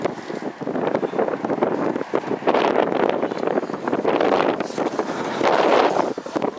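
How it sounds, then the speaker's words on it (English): Wind blowing outdoors at a fenland pike fishing spot, rough gusty buffeting on the microphone that rises and falls over several seconds, with rustling mixed in. "it's a bit windy"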